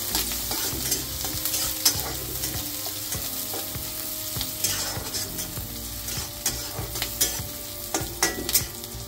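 Onion and spice mixture roasts in a hot pan, sizzling steadily while a spoon stirs and scrapes in short repeated strokes, close and clear with no talking.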